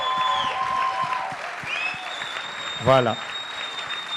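Audience applause at a world model competition as the founder is invited onstage, a steady moderate clapping wash behind tonal music, with a brief spoken word from a presenter near the end.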